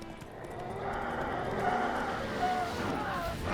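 Roach the horse moves along in The Witcher 3, with soft hoof clops under a low game ambience and a brief whinny-like tone, the steps faint rather than sharp.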